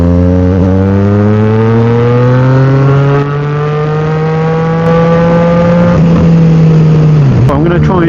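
A Yamaha MT-09 motorcycle accelerates hard to overtake a car, its engine note rising steadily in a loud, close, continuous whine before dropping off near the end.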